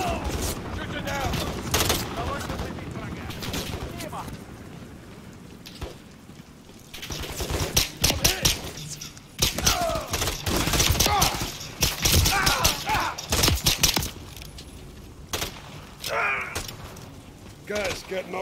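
Heavy automatic gunfire from a modern military shooter, bursts fired at a helicopter amid mechanical clatter and thuds, loud and close, with voices talking over the shooting in stretches.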